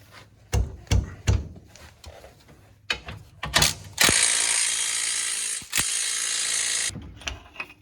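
A ratchet clicks in quick bursts while removing bolts from a Polaris Ranger XP rear hub, followed by a longer buzzing power-ratchet spin and a few metallic clanks, close-up.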